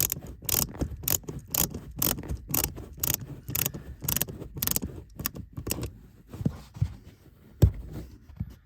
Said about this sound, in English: And then we'll throw our T20 Torx screw back in.